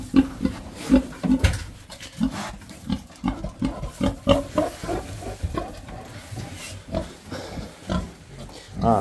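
Pigs and piglets on a farm grunt and oink in frequent short bursts, close and busy, with rustling and shuffling in between.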